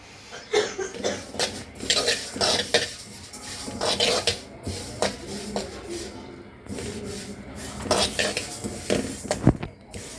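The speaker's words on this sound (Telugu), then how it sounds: "నువ్వులు ఇవి కూడా నెయ్యి అవసరం లేదు డ్రై రోస్ట్ చేసుకోవాలి" Sesame seeds being dry roasted in a pan without ghee, with repeated scraping and clinking strokes of a stirring spoon against the metal and faint sizzling between them.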